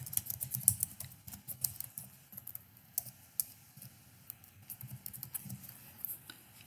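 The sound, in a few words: typing on a computer keyboard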